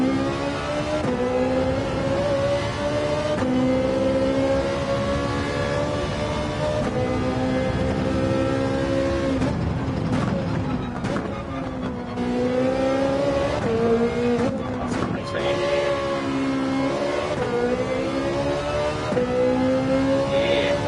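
A Ferrari race car in Gran Turismo 7 revs loudly and continuously, its engine pitch climbing and falling through repeated gear changes, with no talking over it.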